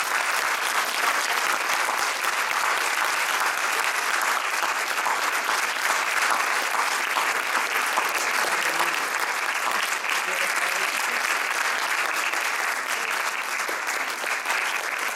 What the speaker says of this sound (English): I would ask that you would give a round of applause to Omar Barghouti and Ed Smith.